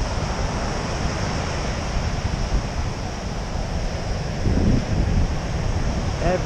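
Steady ocean surf at a chilly, empty beach, with a continuous wash of breaking waves and wind buffeting the microphone, swelling slightly louder near the end with no talking.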